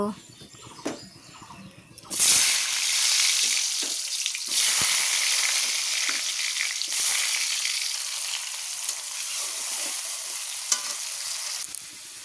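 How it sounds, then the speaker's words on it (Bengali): Potatoes hitting hot oil for a Bengali koi fish curry, a few quiet clatters first, then a sudden loud burst of frying that settles into a dense, continuous close sizzle with occasional stir scrapes. "তো আলুগুলো আমার ভালো করে ভেজে নিয়েছি আমি"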